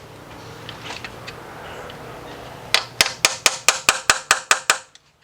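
A hammer taps a screwdriver into an engine cover seam about ten times in a steady rhythm, crisp and close, after a few seconds of quiet shuffling, during a Kia/Hyundai timing chain replacement.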